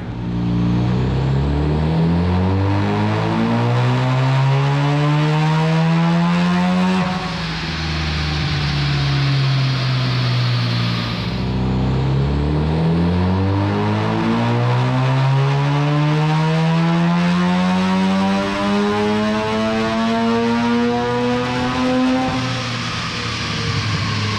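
A car engine revs hard on a dyno during power pulls, two long rising sweeps of loud, close roaring that climb in pitch before each cuts off, with a brief drop between them and a third pull starting.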